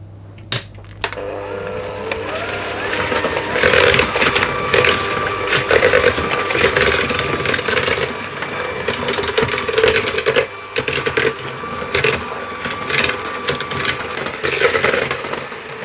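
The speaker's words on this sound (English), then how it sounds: "I'll just mix that until it's creamed together" An electric mixer creams butter in a bowl for a rhubarb and ginger cake, a busy rattling whir with clatter against the bowl that runs loud and close, after a brief start-up knock.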